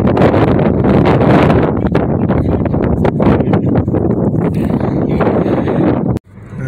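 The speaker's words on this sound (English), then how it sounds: "it's so damn windy out, it's messing up the video" Strong wind buffets a microphone outdoors at Gettysburg, a loud, continuous rumbling roar with gusty surges that cuts off abruptly near the end.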